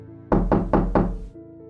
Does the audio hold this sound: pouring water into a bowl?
no